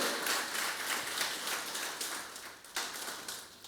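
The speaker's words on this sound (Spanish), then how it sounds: "Apláudele fuerte" A church congregation applauds during a Spanish-language sermon, a dense wash of clapping that holds steady for a few seconds and then thins out, with no talk over it.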